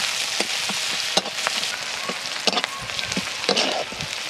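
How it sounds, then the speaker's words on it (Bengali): Dried red chilies and slit green chilies crackle in hot tempering oil alongside small chopped onion, giving a close, dense sizzle broken by sharp pops and spits. "শুকনো লঙ্কা দিয়ে দিয়েছি ফোড়ন হিসাবে।"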